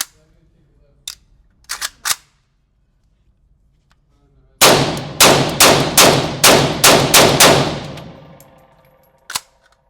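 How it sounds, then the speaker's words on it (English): Military surplus ammunition fired from a rifle with an X-Tech Tactical magazine: a few faint early clicks, then a rapid string of about eight loud, close shots, followed by one final report. "I'm gonna do a few rounds of each different type of ammo"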